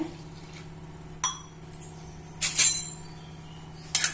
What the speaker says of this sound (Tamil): 1 டம்ளர் தண்ணியை விட்டு